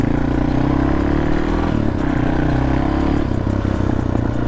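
A 1988 Yamaha XT350 motorcycle engine idles loudly and steadily nearby with the choke on, with a rough, uneven throb and slight rattling.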